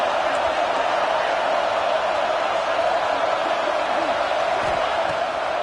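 Stadium crowd roaring in the video game College Football 26 before a big third down: a continuous, loud wall of massed crowd noise holding steady throughout, with faint voices underneath.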